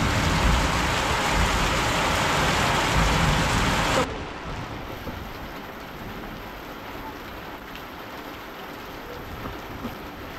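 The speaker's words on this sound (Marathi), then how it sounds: "फायनली म्हणटा तसो पावस येयलो आनी बरो मोठो पावस पडटा" Heavy monsoon rain pours down in Goa as a dense, loud hiss, then abruptly drops to a softer, steady patter of rain after about four seconds.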